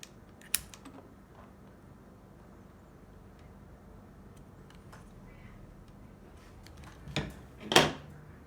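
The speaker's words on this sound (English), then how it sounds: "I'm gonna take my straight body scissors and cut this boot a little bit back" A quiet room with faint scattered ticks, then two or three crisp snips from straight body scissors cutting a rubber RC spark plug boot close by near the end.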